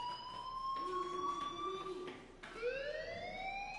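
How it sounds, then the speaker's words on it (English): A fire alarm wails in Life is Strange, a steady electronic tone that holds and then sweeps upward, moderately loud and alone with no talk. "Hey, do you hear that fire alarm?"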